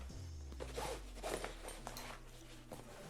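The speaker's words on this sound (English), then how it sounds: "we just simply unzip this" The zipper on a Reika Travel Pack photography backpack is pulled open in one steady, close, quiet rasping stroke lasting a few seconds.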